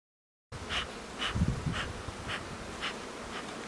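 A dense, steady hum of many honeybees buzzing close by at an open hive, with a brief low thump partway through.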